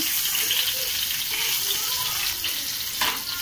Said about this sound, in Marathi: कढीपत्त्याची पानं, थोडं जिरं आपण असं परतून घेऊया.